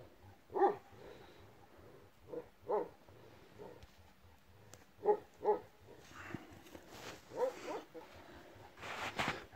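A young Kangal dog barks in scattered single and double woofs at close range, with quieter gaps between them and some clatter and rustling toward the end.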